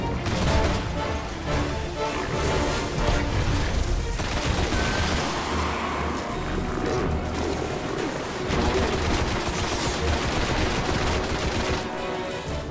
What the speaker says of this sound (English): Stop standing still when shooting him.